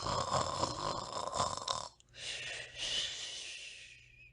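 A badger snores steadily in a sleeping rhythm, with breathy rasping inhalations up close, a brief pause, then another long snore.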